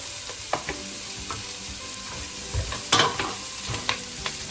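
Vegetables for a winter soup sauté in a pan, a moderate steady sizzle broken by several sharp clinks and scrapes of stirring, with no one speaking.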